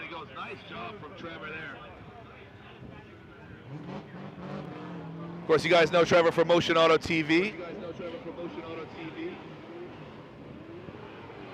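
A Corvette drift car at the LZ Invitational qualifying roars past with a loud, rapidly warbling engine surge midway, then fades, under continuous commentator speech.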